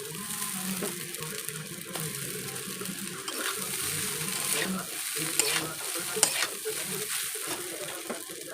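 Chow mein and onions stir-fried in hot oil give a steady broadband sizzle with scraping stirs and occasional sharp clicks, continuous and close throughout, with no talking.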